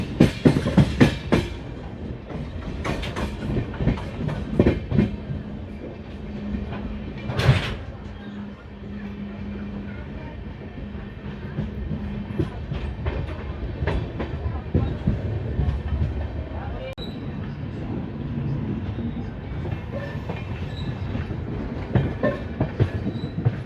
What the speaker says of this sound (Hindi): दोस्तों हमारी ट्रेन पहुंच चुकी है Khordha road junction railway station पे